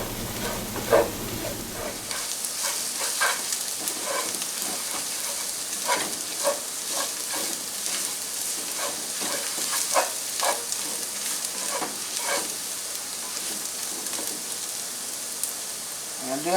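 Meatball stew with green peas bubbles and sizzles in a pot over medium heat while being stirred, a steady frying hiss with repeated scraping strokes, close and continuous, a low rumble before it begins.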